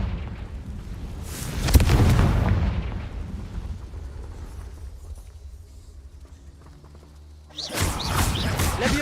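A Confringo fire-spell blast in the Hogwarts Legacy video game: a loud booming explosion that rolls off and fades, followed by another burst near the end.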